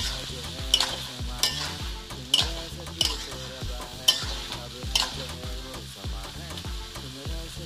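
Beans and cauliflower fry in a pan while a spatula stirs them, giving rhythmic scraping strokes about once a second over a continuous close sizzle.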